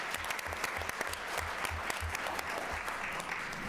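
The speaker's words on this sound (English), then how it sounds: "I hope you'll join me in a round of applause for Professor Waterhouse" Round of applause from a panel-event audience for Professor Waterhouse, dense and sustained clapping filling the room at an even level throughout, with a faint low thumping pattern underneath.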